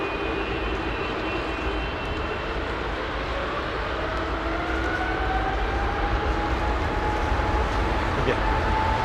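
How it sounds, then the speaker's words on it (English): A passenger jet taking off at London Heathrow's runway 27 right, its broad, steady engine roar filling the scene with a slowly rising whine, heard at moderate distance under wind and outdoor rumble. "American Airlines, clear to take off."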